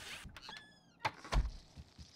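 A double door opens in a mansion in Dead Frontier 2, a faint creaking squeal followed by a couple of soft thuds, quiet and close, with no talking.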